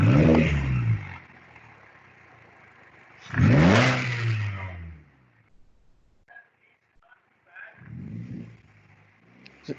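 A car engine revs in two loud bursts, acceleration tests during a MAP sensor diagnosis on a car reported as sluggish, with quieter engine sound and faint voices in between.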